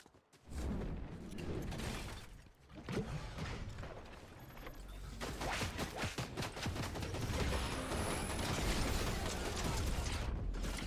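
Dense bursts of video game gunfire from a powerful weapon, sustained loud volleys with rattling mechanical clatter filling most of the span after a brief quiet start.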